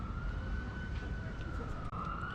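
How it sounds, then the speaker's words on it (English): A police siren wails steadily on a Hollywood street, a sustained rising and falling tone over heavy traffic rumble, fairly loud and continuous throughout. "I'll tell you as soon as that siren calms down in a second"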